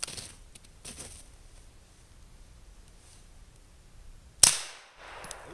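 A suppressed Walther PPQ pistol fires outdoors in snow: one sharp, loud muffled crack near the end stands out against quiet, with a few faint softer clicks and rustles before it.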